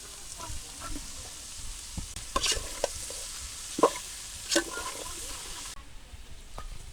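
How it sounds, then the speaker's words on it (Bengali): Ridge gourd and potato stir-fried with salt in hot oil and onion, with a faint sizzle under a series of sharp spatula scrapes and clinks against the pan. "ঝিঙ্গা আর আলু দিয়ে দিলাম একটু লবণ দিয়ে দিলাম"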